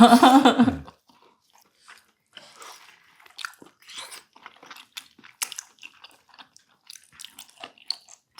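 Close, wet chewing and biting on cooled, chewy Korean boiled pork feet (jokbal), with a brief burst of talk at the start and then irregular soft crunches and squishes.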